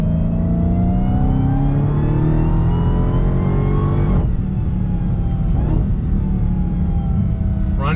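An 800-horsepower car pulls hard in second gear on full throttle, its loud engine rising steadily in pitch with a brief dip near the end, filling the whole stretch.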